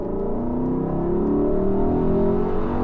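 A stock-exhaust Lexus LC500, a roughly two-ton coupe with a 5-liter V8, revs steadily and loudly, a dense, continuous engine roar with rich harmonic layers that holds throughout, with no talk over it.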